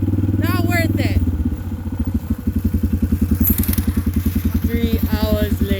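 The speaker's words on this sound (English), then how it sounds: "he just bumped the throttle somehow from the back" A small engine on a mini go-kart is heard under talk, first a loud buzzing burst and then a fast, even chugging idle that carries on to the end. A high squeal rises briefly in the middle.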